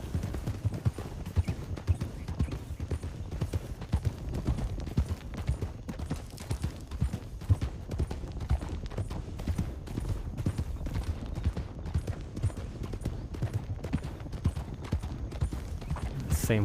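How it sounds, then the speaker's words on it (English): A horse's hooves beat out a steady, close clip-clop rhythm throughout, dense and even, with a faint voice now and then. "Same horse from earlier, looks like."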